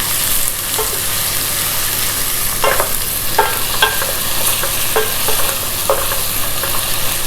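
Onions sizzling with cumin seeds in a pan for a Mangalorean chicken curry, a steady loud fry hiss broken by repeated scraping stirs, no voices.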